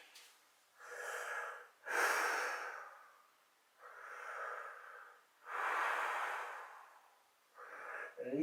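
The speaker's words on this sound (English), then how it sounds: "breathing very deeply so that you can hear" Deep, audible breaths drawn in and let out slowly in a steady cycle while lying forehead-down on the floor in a shoulder exercise, each inhale and exhale close and breathy, with quiet gaps between them.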